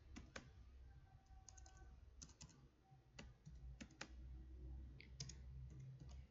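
Commands are typed on a computer keyboard in short bursts of sharp key clicks, separated by pauses, close and quiet, with no voice.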